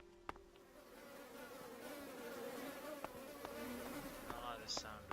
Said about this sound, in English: I like the sound of bees.